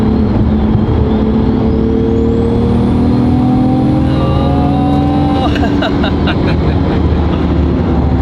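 Loud, close engine of a 700+ hp Nissan Skyline R33 GTR with paddle shift, rising steadily in pitch as it accelerates hard in fourth gear, with a sharp lift or shift near the end and road and wind noise throughout.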